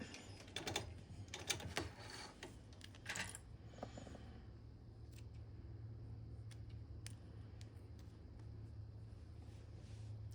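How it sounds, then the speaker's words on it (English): Threads snipped with scissors: a quick run of sharp clicks near the start, then quieter isolated snips over a steady low hum. "Cutting threads, sorry."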